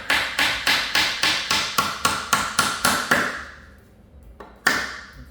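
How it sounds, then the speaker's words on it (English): A hammer drives a nail into a homemade acoustic panel: about eleven sharp, evenly spaced blows close up, then a pause and one final strike. "I take one of these nails, line it up around the middle, kind of the middle, as best you can. Start hammering it in."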